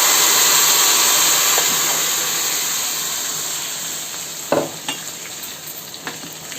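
Mashed gongura leaves hitting hot tempering oil give a steady, close frying sizzle with stirring scrapes, fading slightly before a few sharper spatters and clatters near the end; no one speaks.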